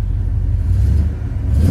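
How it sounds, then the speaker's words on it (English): A 1972 Chevy Chevelle barn find's engine revs briefly, a deep, loud, close rumble swelling and settling over under two seconds with no talking. "give it a couple revs for you"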